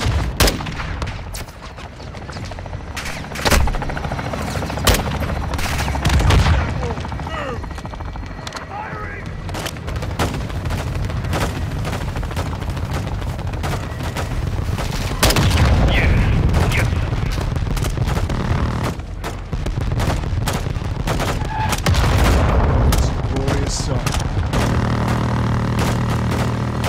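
Air strike pounding a building in Call of Duty: Modern Warfare II on the Al Mazrah mission, loud sustained bursts of automatic gunfire and heavy booming explosions rolling on continuously, with radio-style voices talking through parts of it.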